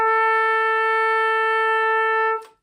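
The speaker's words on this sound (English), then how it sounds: "So the high B sounds like this." Tenor saxophone sustaining a single high B for over two seconds, steady and clear with a rich bright tone, close and alone, ending with a short breathy release.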